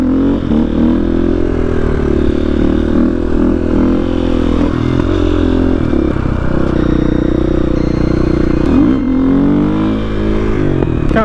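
A KTM 500 EXC supermoto motorcycle climbs a mountain road at high elevation, its engine roaring loud and close throughout, rising and falling with throttle changes through the switchbacks amid rushing wind.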